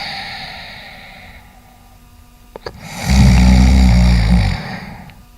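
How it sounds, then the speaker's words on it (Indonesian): A loud, deep snore rumbles for a second or two after softer breathing and a couple of small clicks, sounding close by. "Suara dengkuran seperti orang lagi tidur."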